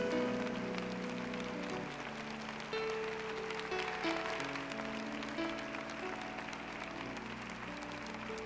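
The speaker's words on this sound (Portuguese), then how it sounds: "Está ficando de pé agora e pode aplaudir o Senhor com toda a força." A congregation claps hard at a Catholic church service, with steady massed applause running under sustained music for the whole stretch.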